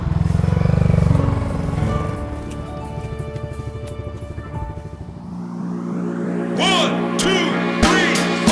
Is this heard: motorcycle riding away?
yes